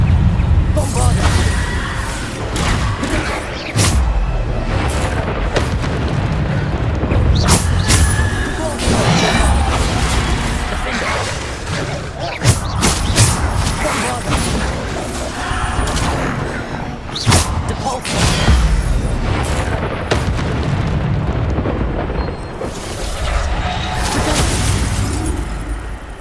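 Bombarda explosion spells cast repeatedly during a Hogwarts Legacy duel trial, with crashing, bursting impacts arriving in a dense, continuous stream of loud combat noise while a voice speaks at times.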